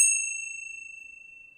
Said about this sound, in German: Da ist natürlich das schmattes Glockerl im Anschlag.